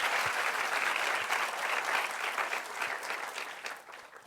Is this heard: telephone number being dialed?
no